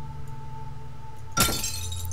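Glass shatters once in the horror game Amnesia, a sudden loud crash with a bright scattering tail after a quiet, humming room, with no voices.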